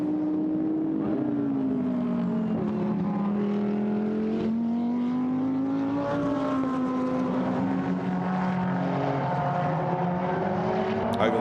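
GT race cars in a Blancpain GT Sports Club race at Paul Ricard circuit, with continuous loud engine drone whose pitch rises and falls through gear changes as the pack passes, steady and close with no speech.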